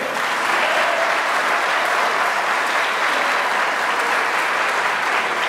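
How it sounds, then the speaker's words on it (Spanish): Party audience applauding a comedian, a steady, dense wash of clapping that holds evenly for several seconds. "Aplaudan, aplaudan, yo espero."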